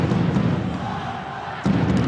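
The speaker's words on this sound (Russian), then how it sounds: "Болельщики Атланты сейчас активизировались." Fans of Atlant at a Russian junior ice hockey match roar and chant from the stands, a thick, continuous crowd din in a rink that swells sharply near the end.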